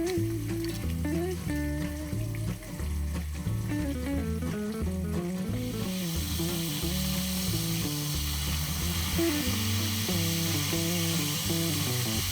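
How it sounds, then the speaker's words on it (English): Veal scaloppini frying in a hot pan, a steady close hiss and sizzle that swells into a broad, continuous crackle while background music plays underneath. "I'll let the scaloppini cook until they're brown on one side."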